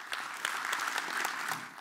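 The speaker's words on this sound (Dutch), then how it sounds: "Graag een hartelijk applaus voor Henk Manschot." An audience at an evening philosophy lecture gives a short round of applause. Individual claps stand out in a steady, moderately loud patter that lasts under two seconds before tapering off.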